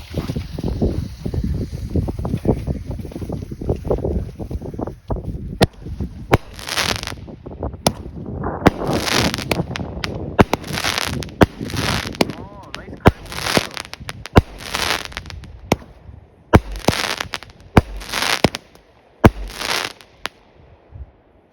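A Love 9-shot 200-gram firework cake fires outdoors, a series of loud broadband bursts and crackling reports coming in quick succession, with wind noise and background chatter around them.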